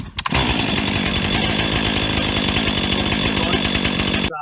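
STIHL chainsaw engine catching after a brief pull, then running at a loud, close, rapid buzzing idle for a few seconds before cutting out.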